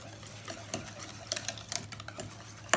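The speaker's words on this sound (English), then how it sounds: "you need to give this a good whisk because you don't want the egg yolks to sort of cook without being amalgamated into this sauce" A whisk beats egg yolks into a moussaka sauce in a home kitchen, giving quiet, quick, irregular tapping and scraping against the bowl with a faint hum underneath.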